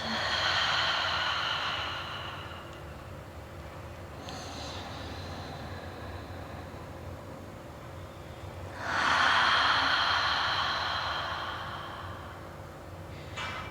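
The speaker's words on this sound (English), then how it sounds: "Breathing into the belly first." Deep belly breathing during a breathing exercise: two long, audible, airy breaths, close to the mic, separated by quieter stretches, with no talking.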